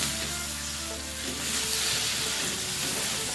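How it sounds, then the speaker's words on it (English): Fiery chilli paste and squid being stirred together in a wok for an Indian-style squid sambal, giving a dense continuous sizzle with soft scraping movements, close and steady throughout, with no voices. "Now stirring to combine"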